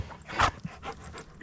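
A dog pants softly nearby in a few quick breathy huffs with a faint whimpery edge, quiet and close, with no talking over it.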